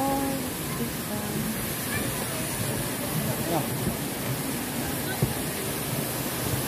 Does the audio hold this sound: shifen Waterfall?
yes